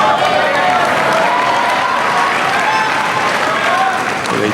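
A Wimbledon crowd at a women's semifinal tennis match applauds loudly and steadily, a dense wash of clapping that holds throughout, with a commentator's voice faintly beneath it.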